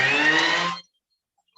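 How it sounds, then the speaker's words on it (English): A Thermomix blender whirs in one short pulse, a close buzzing motor that stops abruptly after under a second, leaving silence. "In a blender, right, it's called the pulse function."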